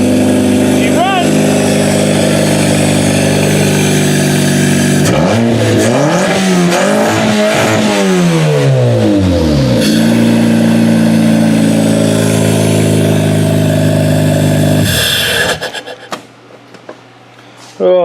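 A Kia-powered demolition derby car's engine idles loudly up close, then revs up and down in several swooping pulls before settling back to idle and cutting off near the end; a voice speaks over it.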